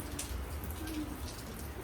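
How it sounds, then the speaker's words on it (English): Rain patters steadily during Tanzania's rainy season, a soft, even wash of drops with scattered brighter taps, fairly faint and continuous with no voices. "It's raining, but it's nice and cool."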